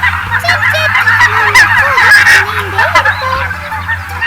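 Loud honking calls from geese or similar fowl repeat close by, several overlapping cries over a steady low hum.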